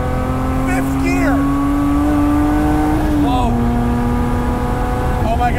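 A 500HP rear-wheel-drive luxury Mini pulls hard in fifth gear, its engine note rising steadily and loud from inside the cabin, dipping briefly at a shift, with people talking over it.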